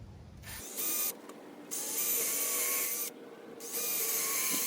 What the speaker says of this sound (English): drill some pilot holes about 2 inches deep on each of those spots